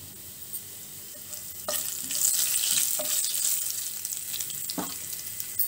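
A tablespoon of cumin seeds drops into hot oil in a pan, a quiet base suddenly swelling into a bright sizzle, with a few spoon taps and stirring scrapes as it crackles on nearby.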